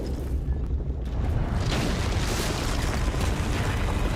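A loud grenade explosion from a video game trailer, a dense rumbling blast that swells after a brief quieter moment and keeps roaring at full level.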